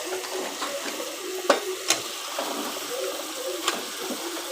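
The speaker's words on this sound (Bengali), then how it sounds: "শালগমটাকেও মাংসের সাথে কষিয়ে নিব" Turnip pieces frying with chicken in a pan, a steady close sizzle with a few sharp clatters of stirring.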